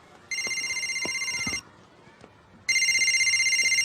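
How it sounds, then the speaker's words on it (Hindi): A telephone rings in a Hindi film scene featuring Salman Khan and Govinda: a loud, close electronic trill sounds in two bursts separated by a short pause, with faint background sounds between them. "उठा ले बेटा, तेरी मम्मी का ही फोन होगा।"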